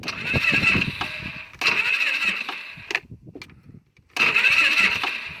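A Polaris Sportsman 500 ATV with starting trouble after a rollover cranks in three long, strained bursts of rapid whirring, separated by brief pauses with small knocks, close to the listener.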